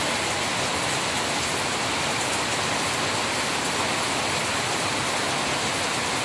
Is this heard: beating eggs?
no